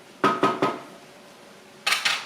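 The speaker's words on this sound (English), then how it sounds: "And I'm going to stir all of this together." A spoon knocks against a pot while tofu scramble ingredients are stirred, giving three quick clinks, a pause, then two more, close and fairly loud.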